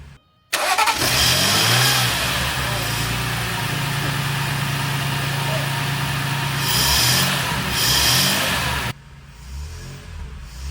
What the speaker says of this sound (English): I'm gonna give you some gas